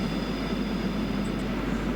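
A diesel train passing close by at a damp depot, a steady heavy rumble and roar with no breaks across the whole stretch.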